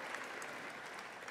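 Soft, distant applause from an audience at a conservation caucus event, a steady wash of clapping with no voices over it.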